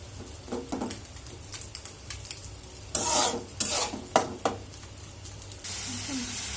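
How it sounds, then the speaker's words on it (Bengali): Spices for a curry being stirred and fried in a pan, with bursts of sizzling and scraping strokes close up alongside brief clinks. "এরপর মশলা কষাচ্ছি"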